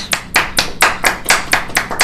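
A single person clapping steadily, about eight loud, evenly spaced claps close to the microphone.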